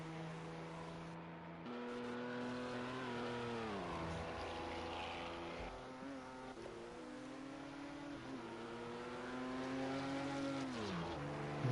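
Race car engines in a sim racing endurance event at Le Mans, steady loud engine drone with upshifts and downshifts as the pitch climbs and drops, no talk.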